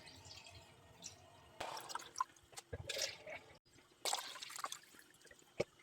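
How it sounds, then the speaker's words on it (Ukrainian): Warm water poured into a pot holding jars in a couple of short splashing bursts, with quieter trickles and drips between them, close by. "Баночки я помістила в кастрюльку і наливаємо сюди водичку тепленьку."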